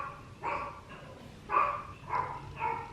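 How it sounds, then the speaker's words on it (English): Pet dog Rocky barking at the doorbell, five separate barks in an uneven series, moderately distant and fairly soft, with no talking. "Rocky's barking because somebody rang the doorbell"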